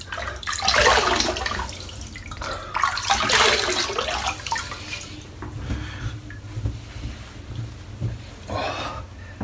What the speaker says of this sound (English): Wet the face, cold water shave